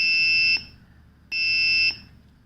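An Arduino buzzer held on by a pressed push button gives two loud, steady high-pitched tones, each about half a second long, separated by a short silence.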